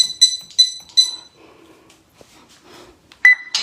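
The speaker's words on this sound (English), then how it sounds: "Let me disarm my alarms" A home alarm system gives three quick, bright electronic beeps as it is disarmed, then a short pause with faint rustling before another single sharp beep, all fairly close in a quiet room.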